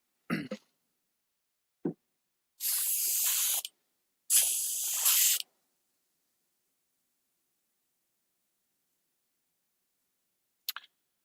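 Airbrush being sprayed clean while painting a D&D Frameworks Balor miniature: two sustained hissing bursts of about one second each, close and fairly loud, separated by a short pause, with a few faint clicks before and after.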